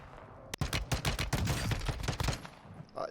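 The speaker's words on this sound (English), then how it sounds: "there's some great shots with that pistol" Rapid bursts of pistol gunfire in the shooter game Warzone 2, a dense string of sharp close cracks after a brief pause, with no talk over them.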